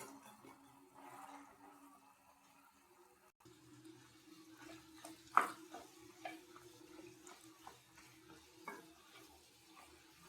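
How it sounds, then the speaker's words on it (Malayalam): Macaroni is tipped into a pan and stirred, giving faint scraping and clattering knocks with one sharper clink over a low steady background hum, all quiet and close. "ഇനി നമ്മുടെ മക്രൂണി ഇട്ട് കൊടുക്കാം ഇട്ടൊന്ന് ഇളക്കിയൊക്കെ കൊടുക്കാം"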